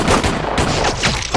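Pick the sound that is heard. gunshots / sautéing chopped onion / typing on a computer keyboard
gunshots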